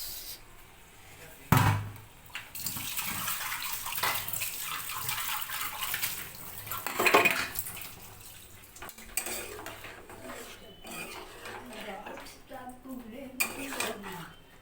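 A bowl being rinsed with water, with a running splash and repeated clatter of dishes and utensils nearby, and a few brief knocks throughout.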